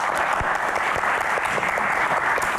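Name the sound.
audience applause for Axel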